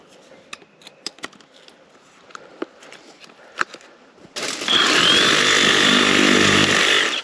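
Sparse clicks and knocks, then a Sawzall reciprocating saw starts up loud and close, running steadily for several seconds as it cuts through a fallen tree blocking an enduro trail.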